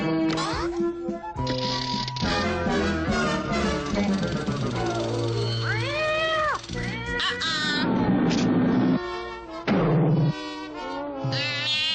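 A cat meows and yowls repeatedly in drawn-out, wavering cries, mixed with mechanical clicks and whirring in the background.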